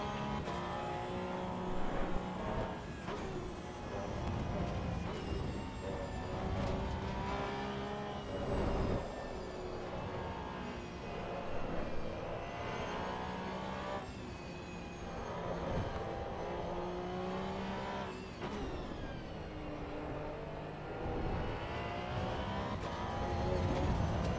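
A Porsche Cup race car engine at Circuit of the Americas in Assetto Corsa Evo revs hard through the gears, its pitch climbing and dropping again and again in a loud, steady drone.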